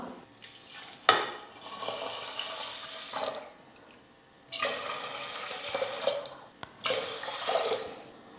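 Water poured from a vessel into a pressure cooker holding rice and moong dal: three separate splashing pours with short quiet gaps between them, close and fairly soft, with small clinks and no talking.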